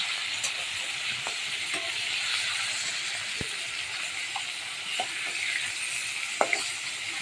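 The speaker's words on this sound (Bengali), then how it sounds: "এটা কড়া কড়া মাছ ভাজছি।" Fish pieces frying crisp in hot oil, a steady close crackling sizzle with occasional sharp spatula taps and scrapes against the pan.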